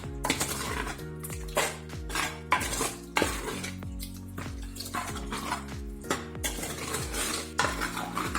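Suvarna gedde (elephant foot yam) pulimunchi curry stirred in a metal pan after the tempering goes in, a steady run of close scraping and clinking of a spoon against the pot, rhythmic and loud with no talk.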